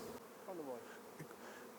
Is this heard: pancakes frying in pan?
no